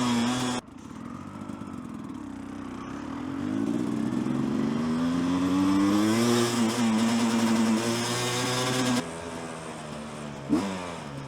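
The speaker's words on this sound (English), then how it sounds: "There's a motorcycle." A gas motorcycle engine drones and climbs in pitch as it passes fairly close, revving steadily, then cuts off abruptly with a short thump at the end; no talk over it.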